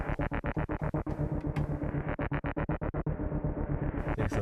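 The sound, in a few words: synthesizer basic sound played with pitch bend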